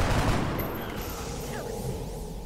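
A burst of gunfire from the turn-based strategy game XCOM: Enemy Within rings out as a dense, crackling volley that fades into a short reverberant tail, with no talking.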